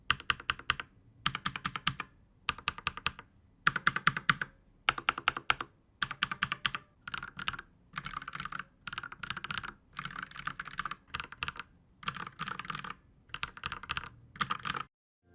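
Rapid clicky mechanical keyboard typing on a Royal Kludge R87 with blue switches, close and loud, in bursts of keystrokes separated by short pauses.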